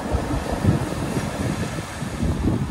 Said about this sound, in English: the wind is like blowing it away